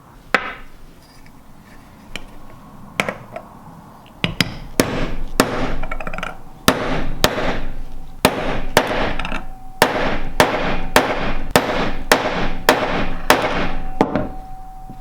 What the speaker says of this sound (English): I'm going to try hitting it with a hammer, see if it works.